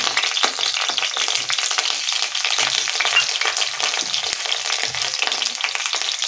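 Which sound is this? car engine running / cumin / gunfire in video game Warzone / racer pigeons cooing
cumin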